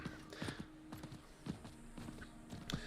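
Horse hooves in a video game, with steady clip-clop footfalls in an uneven walking rhythm, fairly faint and close, over a quiet background.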